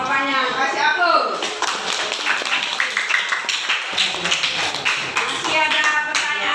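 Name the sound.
classroom applause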